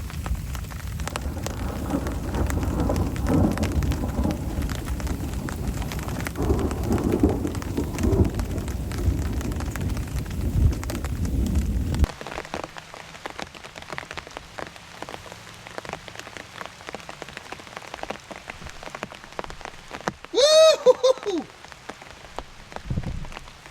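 A heavy storm with thunder over a campsite beside a campfire: dense, loud rain drums steadily at first, then thins to a patter with low rumbles and a brief high whistling sound near the end.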